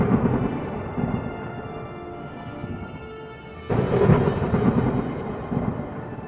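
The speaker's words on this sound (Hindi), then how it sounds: "वर्षा ऋतु का मौसम भी आ गया और गांव में जोरदार बारिश शुरू हो गई।" Heavy rain pours over a village with rolling thunder, a dense, steady rushing roar that swells suddenly into a louder surge partway through.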